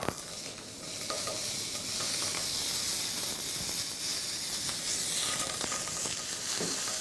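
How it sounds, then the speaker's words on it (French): Foie gras slices sear in a hot pan in a chef's kitchen, giving a steady, close, loud sizzle and crackle with bursts of spitting fat throughout and no voices. "lorsque vous allez saisir le foie gras, il va conserver tous ses arômes, il va se dégraisser naturellement"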